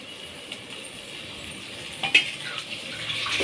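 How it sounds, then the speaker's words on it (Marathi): Water is poured into a cooking pan of brinjal and potato sabzi on a gas stove, a soft, faint splashing hiss that swells toward the end. "मीठ टाकल्यानंतर आता पाणी टाकू आपण।"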